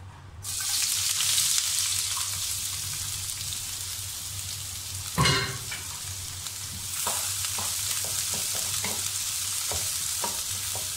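Onion caramelizing in sambal in a hot pan, a steady close sizzle and crackle with occasional stirring scrapes and a sharper clatter partway through, no voices.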